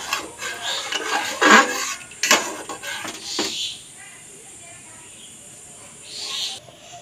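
Gobindobhog rice pulao being stirred in a pan, Bengali style, with a few scraping clatters of utensil against the pan in the first half, then a quiet stretch and one more soft scrape near the end.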